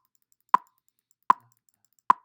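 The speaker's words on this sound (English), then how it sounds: "I'm going to put it with my metronome on." A drum metronome set to 65 ticks three times, crisp evenly spaced clicks about three-quarters of a second apart, close and isolated against silence, for snare drum roll practice.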